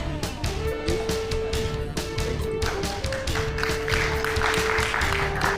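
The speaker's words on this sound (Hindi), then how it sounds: "सर इधर बहुत सुंदर जोरदार तालियों के साथ सभी इनका सम्मान करेंगे" Applause and clapping from a seated audience at a cyber security awareness and honours ceremony with a cultural programme, a steady dense patter of many hands lasting throughout at moderate loudness.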